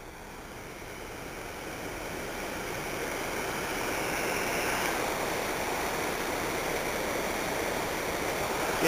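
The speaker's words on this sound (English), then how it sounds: "There's yet another waterfall up there." Waterfall and stream at Ricketts Glen pour in a steady, full broadband rush that holds constant and grows slightly louder toward the end, with no voices.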